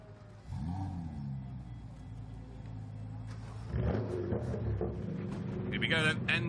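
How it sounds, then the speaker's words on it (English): Racing car engines start and rev before a DTM Trophy race at Zolder, rumbling and then rising into louder revs while a commentator talks over them. "Engines are starting."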